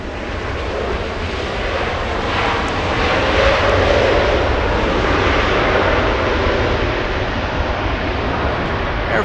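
Air France Boeing 777-300ER jet at Los Angeles International Airport, a steady loud engine roar that swells gently and holds for the whole stretch, with no voices over it.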